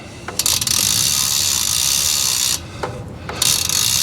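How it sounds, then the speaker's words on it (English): Bicycle freewheel ratchet buzzing in rapid, steady clicks as the chain is pulled backwards through a towel during a bike wash, close by, with a couple of brief pauses and restarts. "I'll just grab the chain and pull it backwards while I'm holding onto it with the towel"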